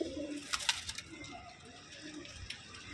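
Teddy pigeons coo softly, giving a few faint, low throaty calls against a quiet background with bits of soft noise in between.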